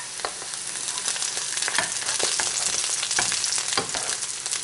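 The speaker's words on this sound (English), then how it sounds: "So we are caramelizing our onions." Onions caramelizing in a hot pan give off a dense, continuous sizzle up close, broken by occasional scrapes and taps of a utensil, with no talking.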